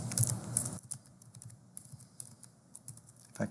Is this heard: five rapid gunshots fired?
no